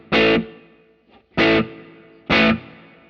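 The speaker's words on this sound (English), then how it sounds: "can hear the reverb gets bigger" Three distorted electric guitar chords played through a Line 6 Helix with room reverb, each short strum ringing out with a tail that lengthens as the decay setting increases, loud and close, with no voices.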